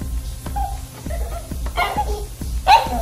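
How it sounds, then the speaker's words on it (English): A small Maltese dog gives a few short, high yips and whimpers close by, spaced irregularly over a low thumping background. "Your bark is ridiculously loud."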